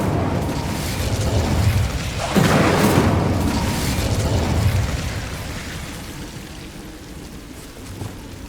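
An Incendio fire spell erupts in the Hogwarts Legacy video game, a deep rumbling burst of flame that swells, roars for a few seconds, then fades into a low crackling tail.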